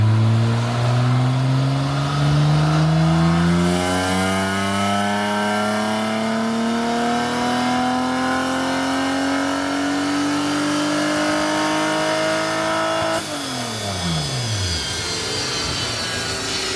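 A BimmerWorld BMW race car engine revs, its tone climbing steadily for several seconds before the throttle is chopped and the pitch falls away sharply, then settles into a rough, loud idle.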